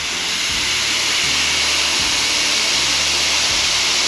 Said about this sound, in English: Got some compressed air here, and if I push real hard right there,